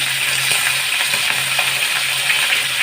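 Coral fish frying in hot oil in a pan, a steady bright sizzle and crackle with scattered pops, close and loud throughout.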